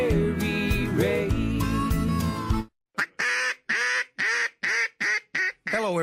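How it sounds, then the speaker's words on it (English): A Double Nasty 3 duck call gives a series of roughly eight loud, close quacks in steady rhythm, following a stretch of full musical backing that cuts off abruptly. "what you just heard is our all-new Double Nasty 3 duck call"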